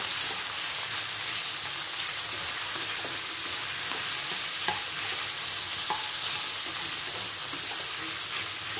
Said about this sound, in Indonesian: di sini saya akan campur udang ya udang kecil nih